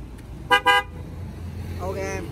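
A Denso 12V horn fitted to a 2023 Suzuki Carry light truck gives two short, loud, close honks in quick succession, followed by a brief voice.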